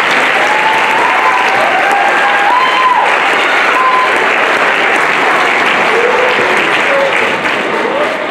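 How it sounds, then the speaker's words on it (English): Sustained applause from a theater audience at a school district choral concert, steady and dense clapping filling the room from start to finish with no pauses. "let's give them a round of applause before I get off."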